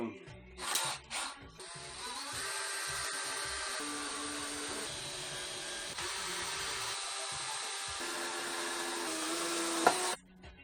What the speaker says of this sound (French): Donc il n'y a plus qu'à visser.